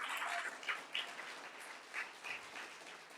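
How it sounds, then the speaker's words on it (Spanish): A church congregation applauds, a short burst of fairly faint clapping that fades out within a few seconds, with no talk over it. "Denle un fuerte aplauso al Señor."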